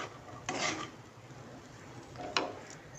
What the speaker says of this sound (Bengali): এবার এগুলোকে একটু নাড়াচাড়া করে নিতে হবে।